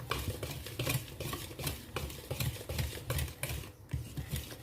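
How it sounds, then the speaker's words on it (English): Cake batter made with flour and baking powder is stirred briskly in a bowl, giving a steady rhythmic run of close scraping and tapping strokes with no voices. "just mix everything up and gradually add into your wet ingredients"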